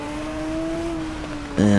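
A motorcycle engine holds a steady high drone on the approach toward Glen Helen, then blips sharply louder at the end as it drops down two gears for a long left-hand bend, close and loud.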